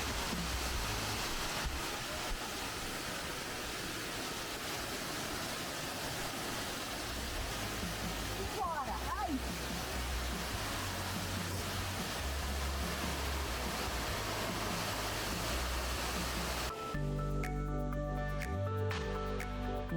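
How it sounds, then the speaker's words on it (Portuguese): Cachoeira do Senhorzinho waterfall at Estância Mimosa, a loud, steady roar of rushing water that fills the scene without pause, with a faint change near the end. "Esse bom é a Cachoeira do Senhorzinho."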